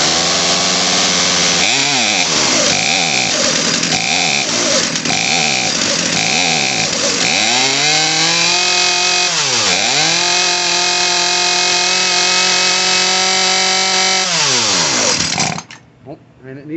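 A Craftsman chainsaw engine runs loud and close after a carburetor and fuel line repair, revving up and down repeatedly before holding high revs, then cutting off at the end.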